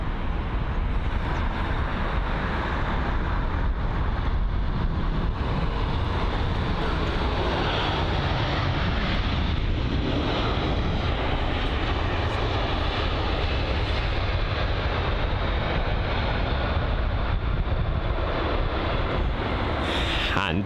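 An Airbus A320 at London Heathrow Airport gives a broad, continuous engine roar that stays fairly even in level for about twenty seconds, heard at some distance with no talk over it.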